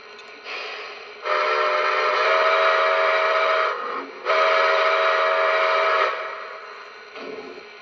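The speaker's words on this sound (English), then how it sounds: "Pennsylvania Railroad Banshee whistle." A Lionel model train's Pennsylvania Railroad Banshee steam whistle blows several times: a short soft toot, two long loud blasts with a brief break between, then a fading final toot.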